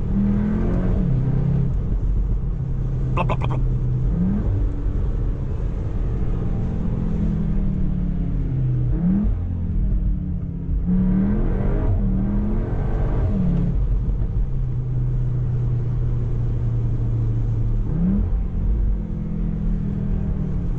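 Cupra Formentor 310HP small SUV heard from inside, engine rumbling loudly with repeated downshift blips and revving acceleration pulls at intervals, a brief voice mumbling over it.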